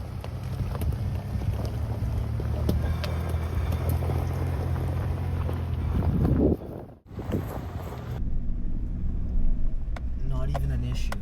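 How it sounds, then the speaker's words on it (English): A Jeep Liberty crawls up an off-road hill in 4 low, first gear, its steady low engine drone and wind rumble filling the clip, briefly cutting out near the middle before resuming. "Let's see if I can make it up this hill."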